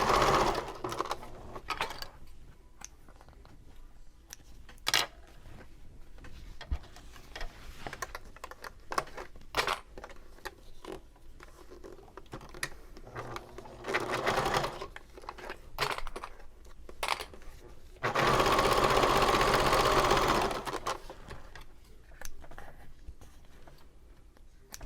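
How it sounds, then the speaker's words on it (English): A sewing machine top stitches a seam on a convertible bag, running in short bursts of rapid needle clatter separated by pauses, with a longer continuous run near the end, close and moderately loud. "I want this to lay flat, and so I'm going to top stitch"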